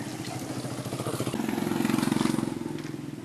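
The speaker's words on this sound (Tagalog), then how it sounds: "umalis na yung tumirik ng motor" A stalled motorcycle engine starts up and revs as it pulls away through a flooded street on a rainy Christmas Day, its throbbing pulses rising to a peak and then fading, fairly close.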